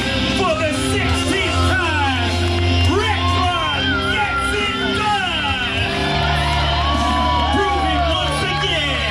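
Crowd at a Bassmaster Elite fishing tournament trophy presentation on the St. Johns River, loud sustained cheering with whoops and shouts throughout, voices mixed in.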